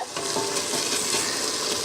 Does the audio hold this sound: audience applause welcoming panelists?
no